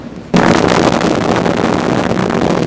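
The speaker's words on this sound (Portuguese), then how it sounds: "esse é o ruído de 100 células de um primata pensando." A sudden loud onset of dense, crackling static-like noise, sonified electrical activity of 100 primate neurons, that continues steadily, a roaring wash of rapid pops with no voices.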